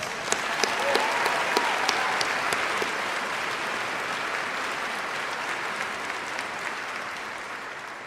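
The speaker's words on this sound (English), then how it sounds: "Let's give her another round of applause." A large audience at a college commencement applauds steadily, dense clapping that holds for several seconds and slowly tapers off.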